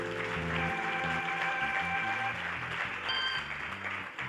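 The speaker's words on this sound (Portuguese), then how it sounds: "você quer aplaudir o Senhor Jesus?" Church congregation clapping at an anniversary festival service, fairly faint applause spread across a room, blended with ongoing keyboard or organ chords and held musical notes.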